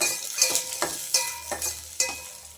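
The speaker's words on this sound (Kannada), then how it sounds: "ಅರ್ಧ ಟೇಬಲ್ ಸ್ಪೂನಷ್ಟು ತುಪ್ಪ ಹಾಕೊತಾ ಇದ್ದೀನಿ" Half a tablespoon of ghee sizzles in a pan with oil while cooking palak paneer gravy, a close crackling fry broken by a few sharp stirring scrapes of a spoon.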